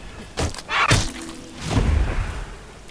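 Thief sword slices in Guild Wars 2 combat, a series of loud close whooshing hits and heavy thuds in quick succession, ending in a dull rumbling impact, with no talking.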